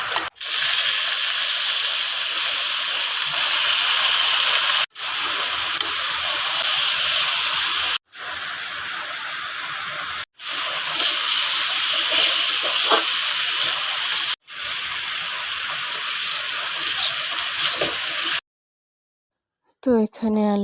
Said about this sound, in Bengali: তো এখানে আলু ভাজি করলাম